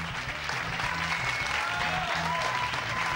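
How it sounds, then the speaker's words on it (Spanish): Steady applause and crowd noise from an audience greeting a band at a stage show, continuous and full throughout with a low musical hum beneath. "aplauso para ellos"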